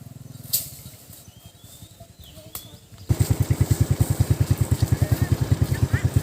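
A motorcycle engine idles quietly, then revs up into a loud, steady, close chugging throb while cattle are herded across a field.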